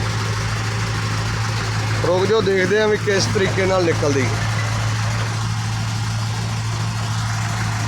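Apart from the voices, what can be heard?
tractor engine pulling a stuck loaded truck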